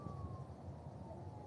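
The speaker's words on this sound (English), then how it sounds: "There may be an ambulance down there coming down the street." A siren wails faintly in the distance, its tone sliding slowly downward over low background rumble.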